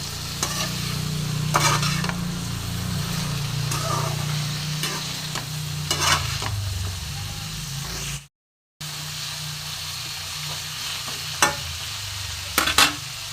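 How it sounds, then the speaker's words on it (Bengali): Mixed vegetables with salt and turmeric sizzling in a pan while a spatula stirs them, close crackling frying punctuated by several scraping strokes, with one brief dropout midway and no voices. "দিয়ে একটু ভাজা ভাজা হবে।"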